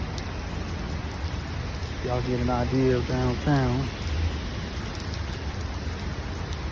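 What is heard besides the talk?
rain falling downtown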